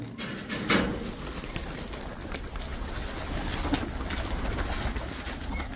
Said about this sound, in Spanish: Las palomas ya esperando el maicito.